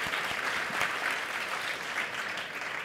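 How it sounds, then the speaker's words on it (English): Audience at a writers' awards ceremony applauding documentary script nominees, a steady patter of many hands clapping throughout, moderately distant and even. "You should clap for these guys."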